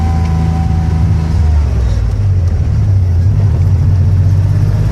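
Manual stick-shift car driving in second gear through a residential neighborhood, a steady low engine rumble holding fairly constant throughout, close and continuous with no talk.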